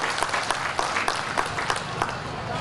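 An audience claps for Malaysia's 22nd-place ranking as one of the most peaceful countries, a dense, sustained wash of applause with no lull, heard alone.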